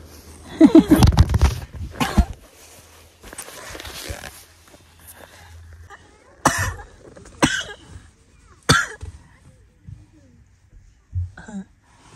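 A burst of harsh coughing up close at the start, followed by scattered softer coughs and throat sounds with brief pauses between them.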